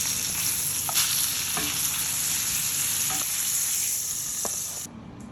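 Steak frying in a skillet with garlic, thyme and bay leaf: a loud, dense, continuous sizzle with a few light utensil clicks, cutting off abruptly near the end, no one speaking.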